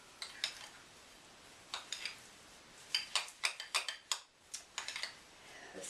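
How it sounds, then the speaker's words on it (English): Spoon scraping and clinking against a bowl while coconut flakes are stirred into a mixture, irregular quiet taps and scrapes in short clustered bursts. "And we'll stir that up."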